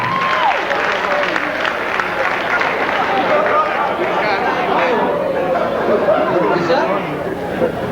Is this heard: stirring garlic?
no